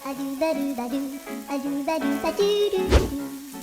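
Steady sizzling and frying of sauce in a hot wok, with a brief burst of louder crackle near the end and faint clinks over the bubbling.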